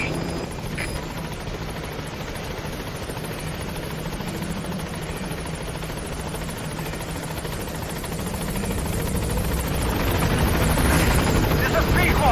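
The B-Quad helicopter in Metal Gear Solid V arrives at a landing zone as a loud, continuous rotor drone that grows louder toward the end, with faint radio voices beneath it.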